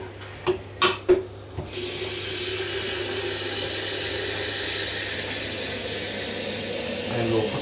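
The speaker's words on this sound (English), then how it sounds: "Some more water in the kettle." Tap water runs steadily into a kettle during home beer brewing, a continuous broadband hiss after a few short clinks and knocks at the start, fairly close and alone without talk.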